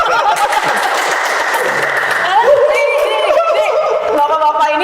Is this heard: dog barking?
no